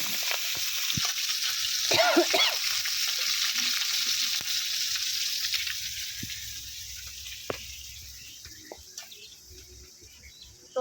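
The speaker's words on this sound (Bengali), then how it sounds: "তো সুন্দর করে আমি মাছগুলো এই দুই পিঠ ভাজা নিব।" Tengra fish frying in hot oil in a pan, with a steady close hiss of bubbling sizzle that fades slightly over time and a few faint clicks.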